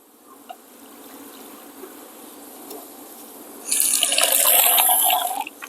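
Tomato seed pulp and water are poured through a strainer, starting as faint drips and trickles, then a loud, close splashing gush lasting about two seconds before tapering off.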